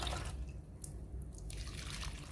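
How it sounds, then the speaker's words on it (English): Water is poured onto the soil of a newly repotted moringa plant, giving a soft, steady trickle and splash with a few drips, close and fairly quiet. "now let's water our new potted plant."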